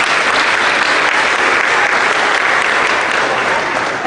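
Dense, sustained clapping fills a school awards ceremony, loud and continuous from a large audience throughout.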